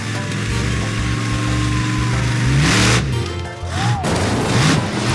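A monster truck lands on and crushes a row of cars, a loud sustained rumble of engine roar and grinding metal with crunching impacts and revving swells.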